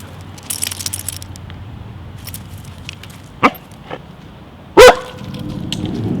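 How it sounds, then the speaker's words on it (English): A dog named Bentham gives a single loud bark indoors during a home renovation, preceded by a fainter yip and some scattered clicks and shuffling, with no voices. "Bentham is barking."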